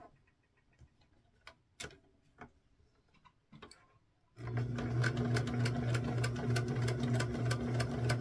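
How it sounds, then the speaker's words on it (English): A sewing machine stitches quilt pieces together for a mini kite quilt. A few soft clicks and taps come first, then the motor starts, and a steady, close, rapid run of needle ticks and hum goes on to the end. "now we're going to sew the bottom together"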